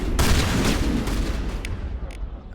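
Gunfire in the video game Mass Effect Legendary Edition during a firefight with snipers, a dense continuous barrage of shots and booms sustained loudly throughout with a few sharper bursts near the end.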